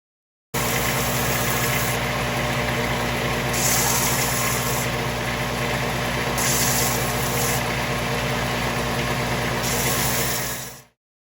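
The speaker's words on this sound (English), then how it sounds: "now I'm going to sand them on my sander" A power sander runs continuously on rough edges of wood pieces, a loud steady close-up drone with a few swells in intensity before stopping abruptly, no voices.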